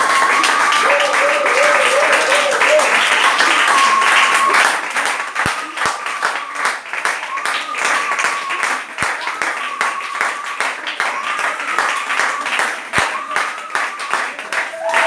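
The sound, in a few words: congregation clapping and acclaiming at church service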